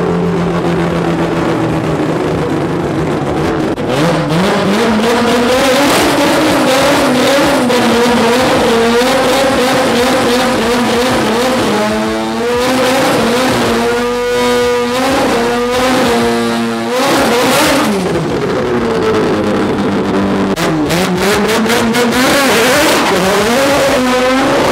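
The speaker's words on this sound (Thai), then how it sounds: "ไม่ไหวเสียงโรตารี่มันดังเกินไปครับ" Rotary-engined race car revving hard and loud during practice at Souped Up Thailand 2019, with sustained high-pitched wails, rapid throttle blips and brief drops across the stretch, and little speech audible.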